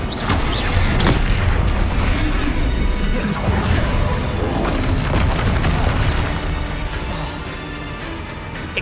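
Spell blasts from Confringo and Bombarda in Hogwarts Legacy, a dense run of booming explosive impacts with crackling bursts, loud and continuous through the whole stretch, with voices mixed in among the hits.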